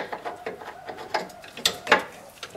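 A 21 mm wrench with an extension bar loosens wheel nuts, making a run of sharp ratcheting clicks and metallic knocks at an uneven pace, close and fairly loud.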